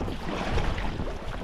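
Wind blowing on open water during a fishing trip on a boat, heard as a steady, loud low rumble and buffeting against the microphone with no voices.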